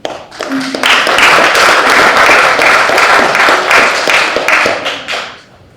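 Loud, sustained applause fills a school board meeting room in Tahoma in May 2022, many hands clapping steadily for several seconds before tapering off.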